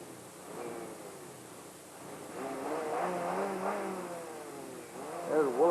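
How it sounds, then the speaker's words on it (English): A pickup truck engine revs in the Alaskan outdoors, its rising and falling tone swelling in waves at moderate distance, with faint talk under it. "There's Willard revving his truck up, getting that thing to look at us."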